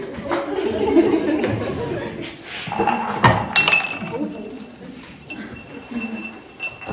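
A drinking glass is set down with one short clink during an artist talk, heard amid murmuring voices and light room chatter.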